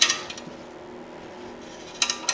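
Crescent wrench clinking against 10mm bolts while crash bars are undone on a Royal Enfield Himalayan motorcycle; a few faint, brief metallic ticks come at the start and again near the end, with quiet gaps between.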